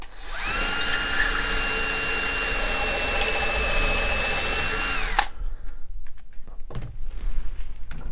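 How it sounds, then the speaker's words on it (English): A power drill whines loudly and steadily for about five seconds while pre-drilling a hole for a garage wall shelf, then stops, leaving scattered light clicks and handling sounds. "Pre-drill the hole."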